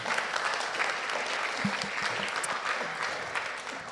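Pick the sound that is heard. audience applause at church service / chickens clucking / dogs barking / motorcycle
audience applause at church service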